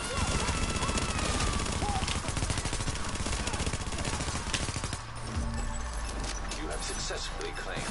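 Dense, continuous video game gunfire rattles in rapid automatic bursts, loud and unbroken throughout, with players talking over the shooting.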